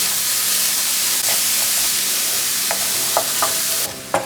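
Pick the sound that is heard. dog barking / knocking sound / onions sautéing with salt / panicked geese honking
onions sautéing with salt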